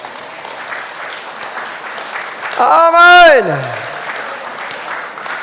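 Sparse clapping from a few people in the front rows of a church congregation runs steadily under the sermon, with a loud shouted voice cutting in midway.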